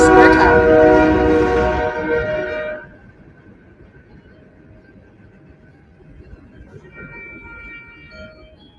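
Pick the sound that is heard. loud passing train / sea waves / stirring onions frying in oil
loud passing train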